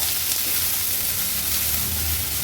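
Finely chopped onions hit a hot pan with ginger, garlic and chili crush, giving a steady, loud, broadband sizzle of frying that continues evenly without pause.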